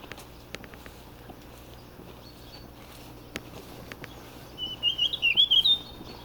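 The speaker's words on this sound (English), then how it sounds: "There's so many birds. The bird song here is amazing, stunning." A bird sings a quick warbling phrase in quiet woodland, with a few soft ticks and rustles around it.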